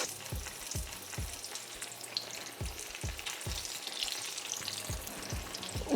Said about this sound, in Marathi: आता प्रथम तेल तापले, त्याच्यामध्ये आपण हे एक एक अरबी सोडणार आहोत